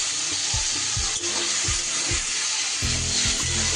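A coriander, cumin and chili spice paste hits frying vegetables in a pan for a fish curry, making a loud steady sizzle with rhythmic scraping stir strokes up close.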